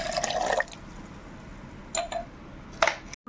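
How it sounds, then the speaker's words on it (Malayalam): Cooled boiled water is poured in short splashing bursts into a mint and lemon juice mix, with quiet pauses between pours, close and fairly soft. "നന്നായിട്ട് തണുപ്പിച്ചെടുത്ത വെള്ളം ഞാൻ 1 ഗ്ലാസ് ആഡ് ചെയ്യണേട്ട്"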